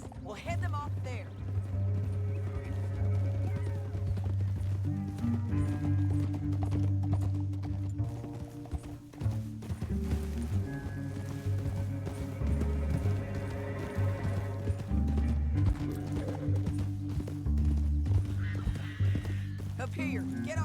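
Horses gallop in Red Dead Redemption 2, their hooves clip-clopping in a fast, continuous rhythm over a loud bed of music and voices in a canyon chase.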